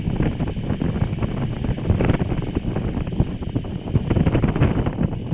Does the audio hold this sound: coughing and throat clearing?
no